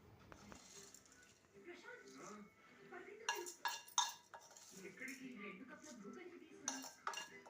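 A spoon stirring a tempering into fenugreek leaf and tomato chutney in a metal pot, with scraping, clinks and taps against the vessel coming in bursts, moderately close, while someone talks intermittently.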